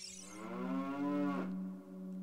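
A single drawn-out cow moo from The Legend of Zelda: Ocarina of Time, a clear low tonal call lasting over a second, close and alone with a faint hum beneath.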